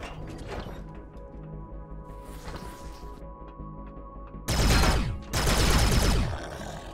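Plasma blaster fire in the video game Empyrion Galactic Survival, with a busy stretch of mechanical clanks and tones before two loud, dense bursts of blasts close up near the end.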